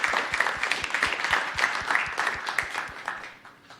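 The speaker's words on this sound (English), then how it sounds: "How about a round of applause for Jean Dugan out there at Peter Howell?" Audience applause at a school district governing board meeting, a steady wash of many hands clapping with rapid individual claps, fairly close and fading slightly toward the end.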